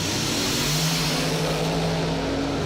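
A drag racing car launches hard down the strip at a bracket race event, its engine roaring loud and continuous throughout with a steady rising drone.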